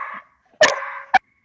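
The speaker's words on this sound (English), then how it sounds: "That's my dog," A dog gives two short sharp barks nearby, a brief whine first, then a loud bark followed by a second quick one, with silence between.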